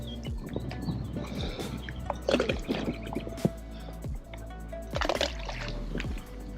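Carp-bait boilies tossed into a gravel pit land with two bursts of watery splashes and patters, heard over a steady murmur of outdoor background.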